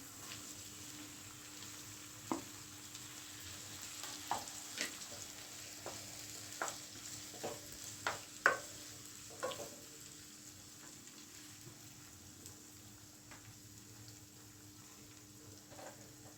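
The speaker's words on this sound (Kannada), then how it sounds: "ಈರುಳ್ಳಿ ಚೆನ್ನಾಗಿ ಫ್ರೈ ಆಗಿದೆ ಎಂತಕ್ಕೆ ನಾನು ಕಟ್ ಮಾಡಿ ಇಟ್ಕೊಂಡಿರೋ ಮೂರು ಮೀಡಿಯಮ್ ಸೈಜ್ ಟೊಮೆಟೊನ ಹಾಕ್ತಾಯಿದ್ದೀನಿ" Three medium tomatoes go into well-fried onions in a pan and set off a faint, steady sizzle, with scattered stirring clicks and scrapes.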